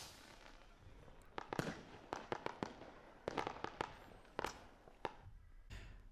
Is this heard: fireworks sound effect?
yes